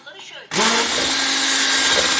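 An electric mixer whirs into cake batter, starting abruptly after faint background voices and running loud and steady to the end.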